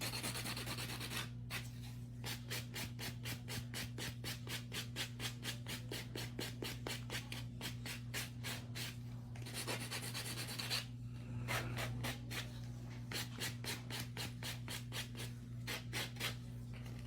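A nail buffer rubbed over an acrylic nail makes a quick series of soft, regular scratchy strokes, close and quiet over a steady low hum, pausing briefly twice.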